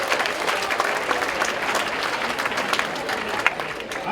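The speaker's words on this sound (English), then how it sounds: "Let's give her a hand clap." Audience applause at a teen conference, a dense wash of many hands clapping with some crowd noise mixed in, steady and moderately loud for the whole stretch.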